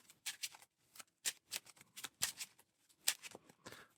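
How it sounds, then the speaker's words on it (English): A deck of Marvel Champions encounter cards is shuffled by hand during a solo tabletop playthrough, giving close, crisp riffling bursts in quick irregular succession, each a short papery flutter. "All right, finish shuffling our encounter deck"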